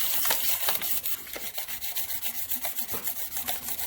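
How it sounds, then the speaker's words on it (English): Fine 1000-grit sandpaper rubs across the deck of a K24 engine block to clear off crud, a close, quick, rhythmic back-and-forth scrubbing with even strokes. "we got the deck of the block all cleaned up with that sandpaper"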